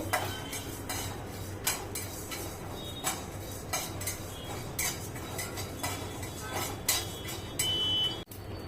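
Whole spices crackling as they dry-roast in a pan for misal pav, scattered sharp pops and ticks over a low steady background, close and moderately loud.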